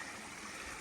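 Small stream spilling over a low waterfall beside a footbridge in a wetland, giving a steady, close, broadband rush of water with no breaks over a brief moment.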